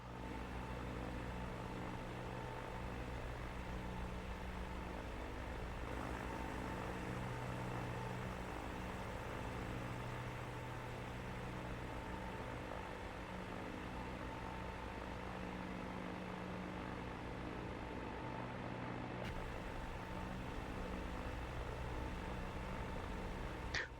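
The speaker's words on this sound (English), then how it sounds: "I'm just going to do a rolling takeoff from here." Twin propeller engines of a Diamond DA62 in a flight simulator game hum steadily through a rolling takeoff, a loud continuous drone with layered tonal lines that holds level throughout, with no talking.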